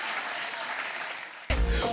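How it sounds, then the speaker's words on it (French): Audience applause for the jury at a student stage evening, a steady wash of clapping that jumps louder and fuller near the end. "On applaudit bien fort le jury, s'il vous plaît"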